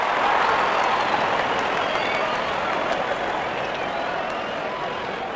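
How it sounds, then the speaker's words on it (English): A stadium crowd applauds a batsman's fifty in an India versus Pakistan cricket cartoon: a dense, even roar of clapping that holds steady and fades slightly toward the end. "Wonderful 50 and the crowd applauds."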